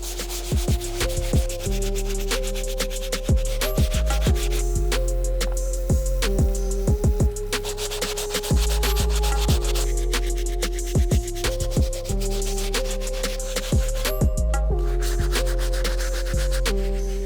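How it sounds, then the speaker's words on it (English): A soft bristle brush scrubs the white uppers of an Off-White AF1 sneaker. Continuous brisk rubbing and scratching strokes run the whole time, close up, over steady background music. "The soft bristle brush is doing its job breaking down all the grime and dirt throughout the white uppers"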